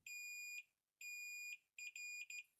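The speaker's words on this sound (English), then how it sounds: "so you can hear the beep." Ohm meter set for continuity testing on a keypad, emitting sharp high electronic beeps: two sustained half-second tones, then a cluster of shorter choppy beeps, clean and close with near silence between.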